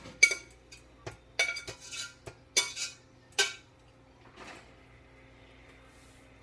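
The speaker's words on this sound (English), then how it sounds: "I need to scrape out just a little bit of the vegetables that stuck in it." Metal utensil scraping stuck vegetables from the bottom of a chicken pot pie pot, a series of sharp, close scrapes and clinks in uneven bursts with quiet gaps between.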